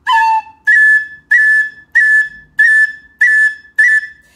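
Seven short, bright tin whistle notes in a steady rhythm, each starting with a quick cut ornament before settling on the pitch.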